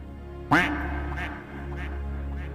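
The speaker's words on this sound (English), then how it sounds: "Void went on as that very duck quacked again." A duck gives a sharp nasal quack followed by a few softer repeated quacks over a steady low hum.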